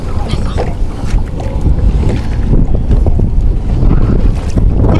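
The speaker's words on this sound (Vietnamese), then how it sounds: "Gió quá trời gió luôn. Quá gió," Strong wind roars and buffets the microphone aboard a small fishing boat out at sea, with water sloshing beneath; the gusting noise is loud and continuous throughout.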